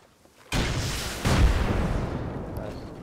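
Gunfire during a base raid in the survival game Rust, with a sudden loud onset followed by a second heavier burst and a sustained rumbling roar that slowly fades.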